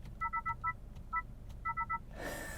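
A 2022 Honda Civic Touring sedan gives a drive mode change chime, a string of short, bright electronic beeps in quick clusters with pauses between them. The beeps sound faintly over a low cabin rumble, and a soft rush of noise comes at the end.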